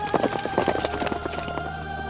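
Horse hooves clip-clop in a quick, uneven rhythm on hard ground in Mongolia, several close, clear strikes over steady background noise, with a brief whinny-like tone.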